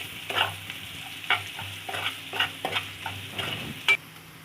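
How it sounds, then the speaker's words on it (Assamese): Onions fry in a pan with turmeric powder and salt for a jackfruit seed curry, a soft sizzle under a string of distinct scraping stirs, roughly one every half second, with a sharper knock near the end. "ভালদৰে লৰাই দিম আকৌ এবাৰ"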